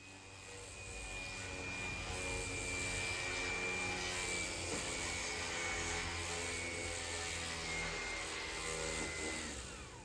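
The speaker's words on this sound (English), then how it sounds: "put the sandpaper straight on the sander and give the top surfaces, the flat surfaces, a touch up as well" Cordless sander with sandpaper fitted directly on the pad, touching up the flat top surfaces of a big chair being restored, a steady close whirring rasp running without a break.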